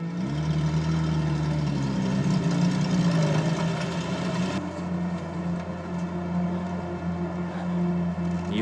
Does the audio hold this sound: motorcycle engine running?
yes